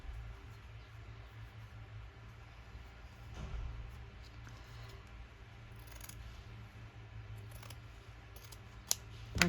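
Scissors snip steadily through paper or card for a handmade craft piece, the cuts quiet and close with a faint background hiss and a couple of sharper clicks near the end.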